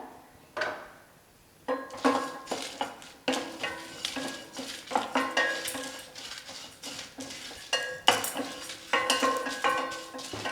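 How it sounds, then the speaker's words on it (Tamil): Urad dal, cinnamon, cloves and dried red chillies being dry roasted in a pan, with irregular scraping and clinking of a utensil against the metal in bursts and short pauses, close and moderately loud. "உளுத்தம்பருப்பு, பட்டை, லவங்கம், ரெட் சில்லி இதெல்லாம் சேர்த்து ட்ரை ரோஸ்ட் பண்ணி எடுத்துக்கோங்க."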